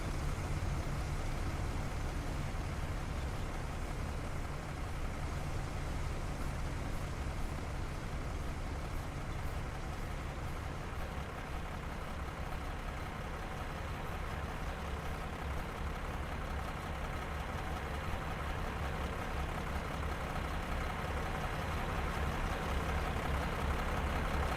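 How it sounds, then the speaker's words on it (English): A vehicle engine, apparently a military armoured personnel carrier, idles nearby in a steady, fairly quiet rumble that continues throughout, with no speech over it. "Can hear its engine running."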